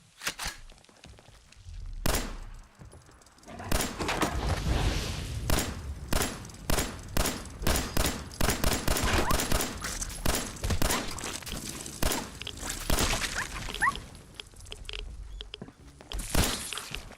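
Gunfire in Fallout 4, a string of sharp shots and impacts, some isolated cracks and then a busy stretch of rapid bursts and clatter, fairly close and moderately loud.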